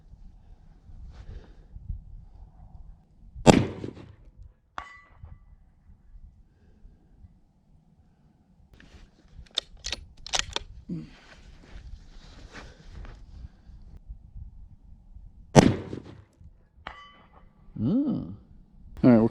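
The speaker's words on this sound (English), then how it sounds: "I'm just going to shoot at the big gong and kind of see where the impact is" Rifle bullets from a 6.5 Creedmoor or .300 Win Mag strike a freshly painted steel gong far downrange, producing two sharp metallic clangs several seconds apart amid wind noise, footsteps and rustling.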